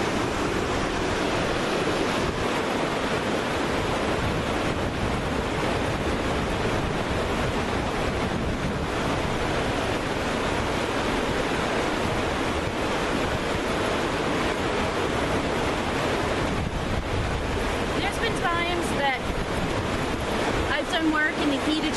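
A river after a storm rushes loudly and continuously, broadband roaring water mixed with wind buffeting the microphone, with no break and no talking.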